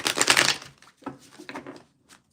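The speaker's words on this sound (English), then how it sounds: "gonna shuffle this really quick" Tarot cards are shuffled in a quick, dense burst of papery riffling, followed by a few softer, scattered card flicks and taps that trail off, close and fairly loud.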